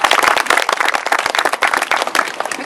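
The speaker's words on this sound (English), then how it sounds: "so a round of applause for the band, please" An audience applauds a live band at a formal unveiling ceremony, a steady, dense burst of clapping from a sizeable crowd heard at close range.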